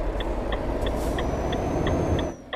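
Truck brakes in Euro Truck Simulator 2 while reversing into a loading bay: a steady engine drone under a regular series of short high chimes, roughly every third of a second, with a faint hiss fading near the end.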